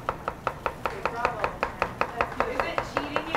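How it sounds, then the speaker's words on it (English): Kitchen knife chopping vegetables into thin slices on a cutting board, a steady run of about sixteen crisp, evenly spaced chops, close and fairly loud, with no voices over it. "You can use like a chopping motion."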